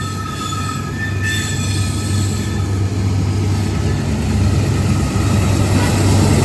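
A freight train rolls steadily through on a Kentucky rail line, a loud continuous rumble of wheels and cars with a faint high squeal riding over it, building slightly toward the end.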